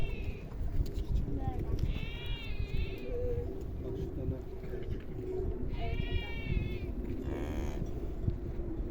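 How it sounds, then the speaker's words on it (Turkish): Lambs at a zoo bleat in several wavering calls, a couple of short bursts and a longer cry near the end, over a low farmyard rumble with people talking. "Kuzu sesleri geliyor."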